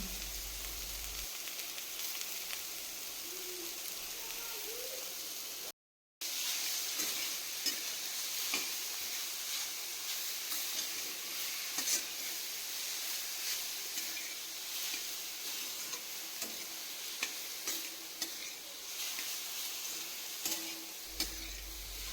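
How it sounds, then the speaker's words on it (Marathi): Radish frying in a cumin and garlic tempering in a village kitchen, a steady close sizzle with occasional stirring scrapes running throughout, with no talk. "फोडणीला जिरे लसूण घालून लसूण चांगला परतल्यानंतर त्यात मुळा घालून घेतला"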